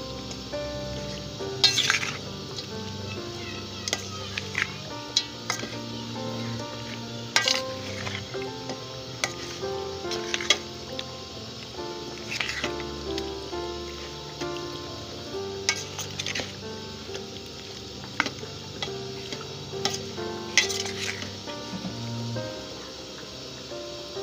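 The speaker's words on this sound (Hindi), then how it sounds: "इसको अब मिक्स करती हूँ।" Chicken mixed with a cup of yogurt and spices for karahi is stirred in a pan, soft scraping and gentle sizzling with sharp metal clicks of the spoon against the cookware, steady and close.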